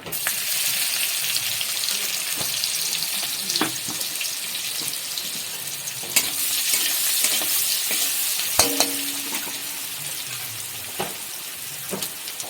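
Crushed garlic sizzles steadily in hot oil with prawns and water spinach, a continuous frying hiss broken by scattered clinks and stirring scrapes of a utensil in the pan.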